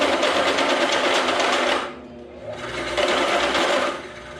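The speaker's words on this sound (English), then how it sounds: "This drill press is kind of lame" A drill press whines steadily through metal, drops off briefly, then grinds back in at full loudness before easing off.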